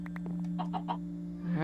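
A chicken in the video game Minecraft Sky Factory 2 gives a few quick, soft clucks over a steady electronic hum, with a brighter rising sound at the end and no talking.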